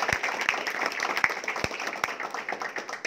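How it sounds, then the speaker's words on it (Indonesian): A small audience at a distributor training meetup gives scattered, fairly soft applause, with a few sharper individual claps standing out from the light patter over about three seconds. "Tepuk tangan."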